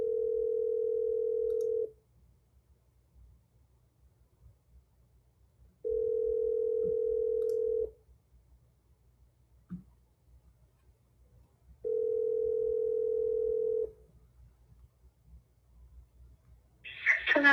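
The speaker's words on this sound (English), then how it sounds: "she didn't answer, so I'm going to just dial her again" A telephone ringback tone sounds while a call is redialed: three even two-second rings separated by long silences, clear and close, with a faint click midway and a brief voice starting at the very end.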